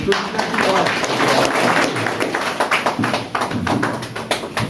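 An audience claps at a Trinamool Congress refugee cell meeting in West Bengal, producing a dense, sustained patter of hands that rises and then thins into scattered claps, with some voices underneath.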